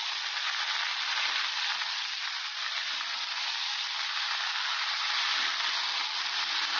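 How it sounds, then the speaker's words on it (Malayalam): Tapioca upma frying in a pan gives a steady, even sizzle close by, with faint stirring underneath and no talk. "ഇളക്കി കൊടുക്കാം."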